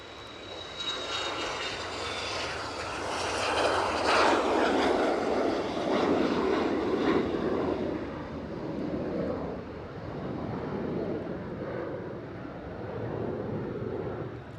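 An aircraft taking off at Edinburgh Airport, its engine roar swelling to a loud, sustained rumble and then slowly easing as it draws away, with no talk over it.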